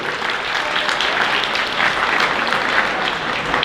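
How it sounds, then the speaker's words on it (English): A round of applause fills a high school student recognition assembly, dense sustained clapping from a large audience in a gym or auditorium, loud and even throughout with no talking. "One more round of applause."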